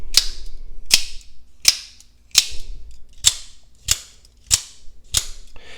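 An Axial Shift folding knife with a steel drop-point blade is snapped open eight times at a steady pace of about one per second, each a sharp, loud, close metallic click with a short ring.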